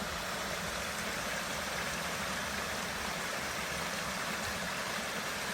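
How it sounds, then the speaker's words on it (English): Steady broadband rushing of the 39 Steps waterfall at Hogsback, continuous and fairly loud, with no voices over it. "Let's see if we can get a different angle on the waterfall for you"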